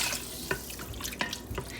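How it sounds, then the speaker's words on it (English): Water pours into a cooking pan with a close, splashing gush, brief and steady, with a few small clunks. "I'm going to add in a total of 3 cups of water"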